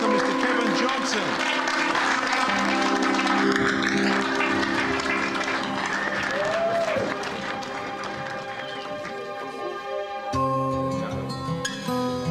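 An audience applauds as a special guest is welcomed at a club, clapping and some cheering mixed under music and a voice, fading as a song takes over near the end.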